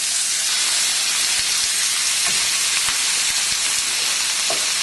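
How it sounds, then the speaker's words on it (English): Marinated salmon laid skin side up in a hot pan sizzles with a steady, loud broadband hiss throughout, broken by a few faint pops and crackles. "when you put it on, you should get that nice sizzle"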